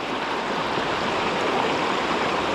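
Stream water runs through a shallow flat-bottomed bed with a steady, close, broad rushing hiss and no break in the flow.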